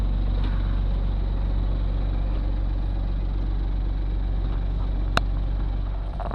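A sailboat's engine runs as it motor sails with the sails up, producing a steady, loud mid-pitched drone with one brief knock near the end.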